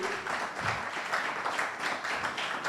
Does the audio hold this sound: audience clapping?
yes